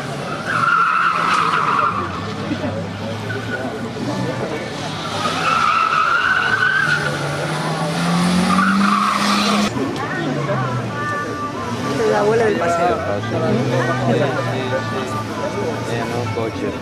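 Race car tires squealing and skidding at a slalom event in Navia, repeated long screeches over a roaring engine and crowd murmur, with brief voices nearby.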